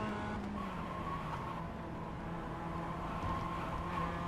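Several Mazda race cars run bumper to bumper through a tight chicane, engine drone rising and falling with gear changes in a steady close-up roar from inside one car, without voices.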